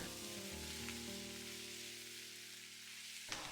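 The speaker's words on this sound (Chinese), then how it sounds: "继续开大火翻炒" Seasoned glutinous rice filling, salted and dressed with soy and oyster sauce, stir-fried in a wok over high heat: a steady dense sizzle throughout, with a soft scrape near the end and no speech.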